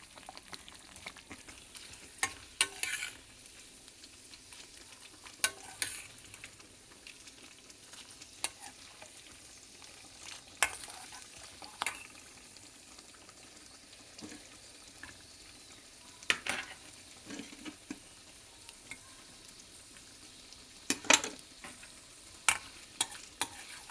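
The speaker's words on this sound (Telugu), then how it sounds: "ఇప్పుడు పోపు పెట్టుకుంటే దాల్ కిచడీ రెడీ అన్నమాట." Spices tempering in hot oil for dal khichdi, a steady low sizzle broken by sharp pops and occasional utensil clinks, close and without talk.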